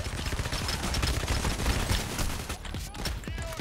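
Pump shotgun fire in the PayDay video game heist: a dense barrage of loud, overlapping blasts and rattling shots. The gunfire stays close and continuous before thinning into a few scattered reports, with no clear talking.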